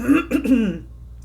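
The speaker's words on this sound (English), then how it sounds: "I just had a huge coughing spell" A single close cough runs into a rough throat clearing, brief and loud, then quiet.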